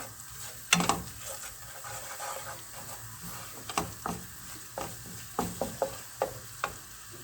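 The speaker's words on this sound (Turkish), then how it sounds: "Unumu kavuracağım" Flour being toasted in a pan for béchamel sauce, with a soft sizzle beneath a series of sharp scraping and tapping strokes from the spoon, spaced irregularly, with no voices.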